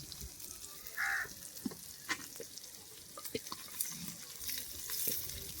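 Freshly caught sea fish frying in oil in a pan, crackling and sizzling steadily, with a few sharper pops and light clatters over the frying.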